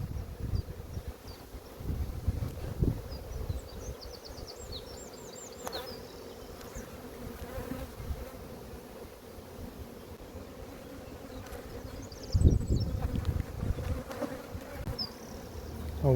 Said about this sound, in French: Vous voyez le nombre d'abeilles.